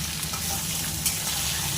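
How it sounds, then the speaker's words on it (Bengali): Boiled potato and jackfruit fry with soybeans, salt and turmeric in a pan for vegetarian jackfruit biryani, a dense continuous sizzle heard close up with no voices. "এইবার দিয়ে দেবো নুন আর হলুদ দিয়ে এটাকে ভালো করে ভাজবো"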